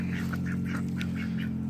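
A small backyard flock of ducks kept alongside chickens gives a run of short nasal quacks, about six or seven in quick succession, over a loud, steady low hum.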